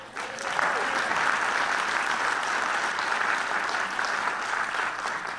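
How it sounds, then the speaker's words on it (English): Sustained applause from a town hall meeting audience, a broad, even wash of many hands clapping throughout, rising quickly at the start and holding steady without talk. "That deserves a round of applause"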